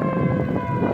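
A civil defense siren sounds during a tornado warning, a steady wailing tone heard outdoors at a moderate distance for about a second, with no talking.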